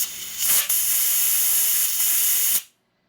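Sustained pressurized air hissing loudly out of a 1988 Harley FXR motorcycle engine lifter, a steady close-up hiss with a couple of brief surges, then cutting off abruptly into silence.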